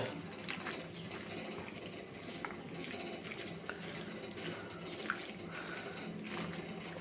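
Food is mixed thoroughly by hand, giving a close, continuous wet squelching and sloshing with small irregular clicks, quiet and steady.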